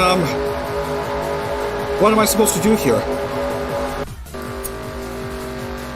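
Race car engines roar in a NASCAR-style racing video game, a loud droning whine that rises and falls with gear shifts and pitch sweeps, while someone talks over the engine noise.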